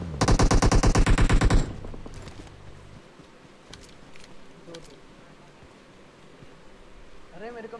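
Loud machine gun fire in a video game, a rapid burst of evenly spaced shots lasting over a second, followed by quieter ambient rustling and faint scattered game sounds.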